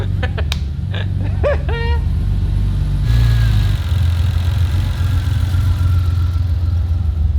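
A turbocharged Ford Fairlane engine, newly fitted with a Haltech ECU, idles on its first start-up with a deep, steady rumble, loud and close, with a rising whine near the end. A few brief voiced sounds come over it early on.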